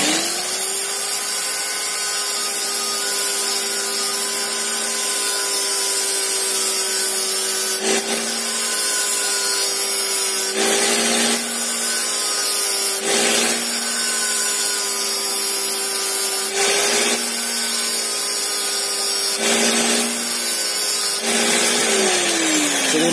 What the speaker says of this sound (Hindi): मैं इस ग्राइंडर से इसे घिसूँगा और यहाँ पे नुकीला बनाऊँगा।